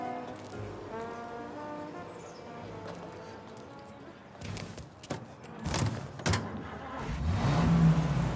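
A car engine from the Mafia video game hums steadily, then revs and rises toward the end, with a voice talking briefly early on.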